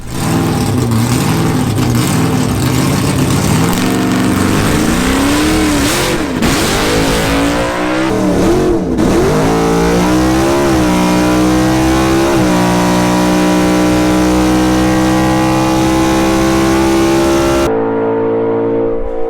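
A drag race car revs hard and launches down the track, its loud engine climbing and shifting through gears in a sustained roar close by before cutting off abruptly at the end.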